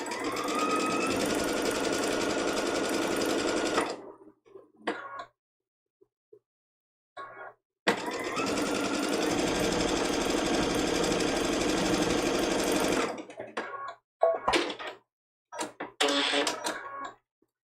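Sewing machine stitching a quilt block seam, running in two long steady bursts of about four and five seconds with short pauses, then a few brief stuttering runs and handling noises near the end.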